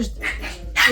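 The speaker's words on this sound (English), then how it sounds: "Sorry about my dogs." Pet dogs barking indoors, a few short, fairly faint yips and barks in quick succession with no talk over them.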